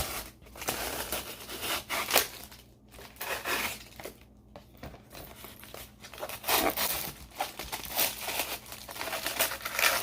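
Packaging from a Wonder Woman Justice League animated-series maquette being cut and pulled apart, with close crinkling, rustling and tearing of plastic and card in irregular bursts throughout.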